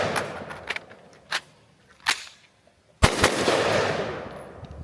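Several AR-15 rifle shots at an outdoor range, sharp close cracks spaced about a second apart, the last followed by a lingering rush of noise.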